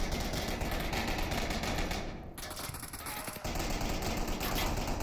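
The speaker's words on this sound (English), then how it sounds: "Unseen's going to engage Tyler, who's just kind of blind fire suppressing" Sustained automatic gunfire from blind suppressing fire in the VR shooter Onward during a competitive match rattles on densely, dipping briefly in the middle, with faint commentary underneath.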